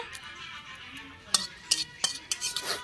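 Two dried red chilies and a couple of small leaves drop into hot oil in a pan, giving faint sizzling and a few sharp utensil clinks and stirring scrapes close by.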